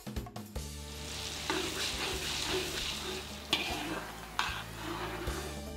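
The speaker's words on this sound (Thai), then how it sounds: "แล้วตั้งกระทะเตรียมเจียวหอมแดง" Shallots fry in a hot pan with a constant crackling sizzle, broken by the scrape and clatter of stirring, close and alone.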